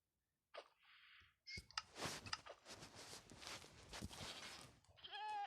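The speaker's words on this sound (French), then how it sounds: "Oh merde, j'ai frappé la biquette" A goat in the video game Minecraft bleats after being hit, giving short, nasal cries among bursts of in-game noise, with a wavering bleat at the end.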